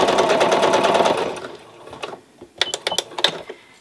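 A sewing machine stitches a faux fur seam in a fast, even run for just over a second, then gives several short, clicky bursts as it starts and stops.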